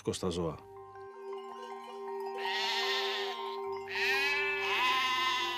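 Sheep bleat loudly nearby on Crete, Greece, a few drawn-out wavering calls over a steady hum, with a short voice at the very start.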